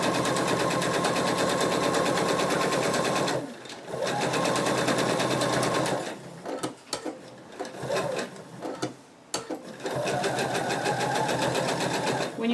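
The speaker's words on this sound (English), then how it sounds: "you're going to sew as close as you can without actually sewing off of the fish" Sewing machine stitching a betta fish plush, loud rapid close-up needle chatter in long runs, broken by short pauses and stop-start bursts before running steadily again.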